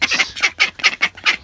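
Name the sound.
ducks quacking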